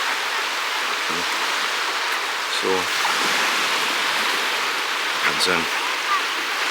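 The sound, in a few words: water sounding against rock formation at resort shore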